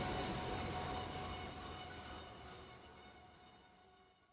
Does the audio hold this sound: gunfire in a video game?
no